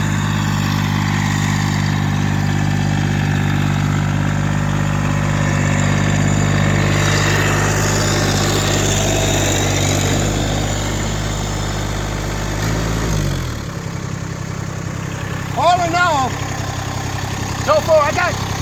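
Massey GC 1710 sub compact tractor engine running steadily and loudly while reversing up an incline, holding a strong drone before dropping to a lower idle near the end, where brief squeaky sounds follow.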